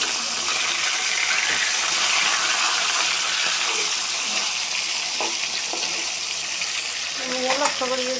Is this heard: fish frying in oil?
yes